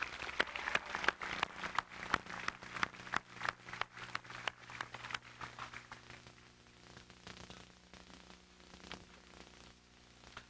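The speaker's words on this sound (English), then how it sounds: "Let's give them all a round of applause" Audience applause at a college graduation ceremony: a brisk burst of many hands clapping that gradually thins and fades to scattered claps over about ten seconds.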